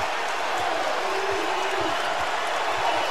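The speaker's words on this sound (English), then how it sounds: "Crowd on their feet here at Rupp." A basketball crowd at Rupp Arena during a Kentucky vs Alabama game, a dense, loud, steady roar of cheering and noise filling the arena throughout.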